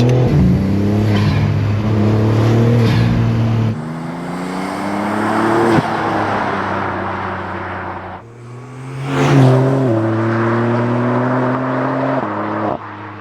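A loud BMW G81 M3 Touring or G87 M2 engine revs hard through several gear shifts on the Nürburgring, the pitch climbing and dropping as it accelerates close by, with sharp exhaust pops.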